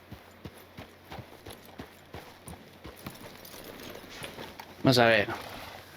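Horse hooves clip-clop at a steady walking pace in the Red Dead Redemption 2 video game, the regular soft strikes continuing under people talking in Spanish and English.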